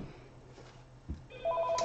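A phone ringtone goes off in a room during a live sports-card break, rising in the second half as bright repeated electronic tones after a soft thump over quiet background.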